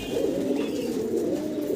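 A male Golden Sweet pigeon on a farm turns in circles while cooing, a low throaty rolling call that swells and repeats close by over faint background noise.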